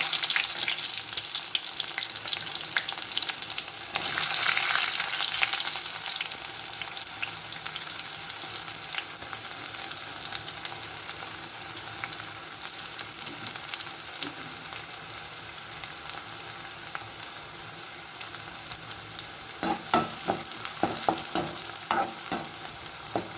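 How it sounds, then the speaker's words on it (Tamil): Onions and curry leaves sauté in a pan for a mochai bean gravy, giving a steady, close sizzle with scraping stir strokes that grow busier near the end. Nobody speaks. "வெங்காயம் நல்லா பொன்னிறமாக வரணும், அந்தளவுக்கு நல்லா வதங்கட்டும்"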